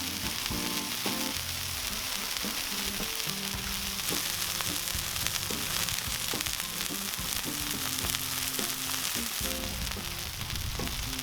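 A seasoned smashed burger patty frying on a Cuisinart 360° griddle, a steady loud sizzle throughout with faint background music.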